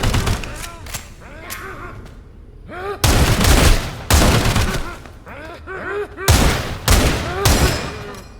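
Video game gunfire crackles in loud, sharp bursts of shots, near and punchy, with brief lulls between volleys and game sounds layered throughout.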